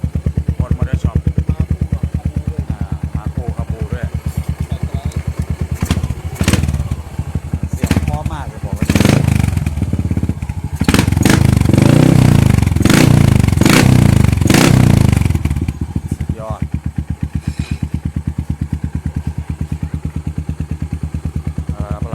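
Loud motorcycle megaphone exhaust rumbling at idle, then revved in repeated sharp bursts that swell into a sustained roar before settling back to idle; someone talks faintly underneath.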